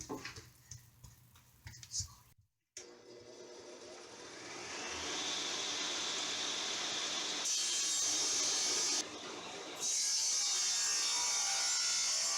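A saw rasping steadily through pine wood, growing louder and more continuous after a short pause, with faint handling noises at the start.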